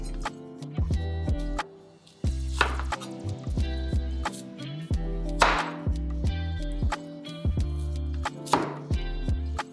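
Knife chopping through three onions to cut them into rings, a steady series of firm knocks on a cutting board with a few sharper, crisper cuts standing out, close and clear, with no talking.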